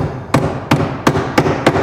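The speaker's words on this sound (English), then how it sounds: "But they have to tap in with a hammer." A small hammer taps a cabinet door hinge into place with five sharp, evenly spaced knocks, close and fairly loud over a low background hum.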